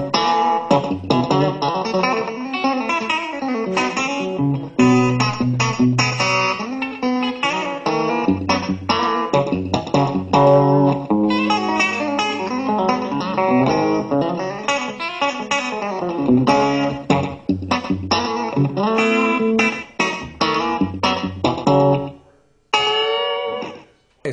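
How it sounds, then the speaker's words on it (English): Modeled Telecaster and Stratocaster guitar tones through a Fender Twin amp with slapback echo, compression and spring reverb, playing a bright, twangy run of quick picked notes and chords, close and loud, ending on a sudden stop. "So on one side, we have a Telecaster through a Fender Twin."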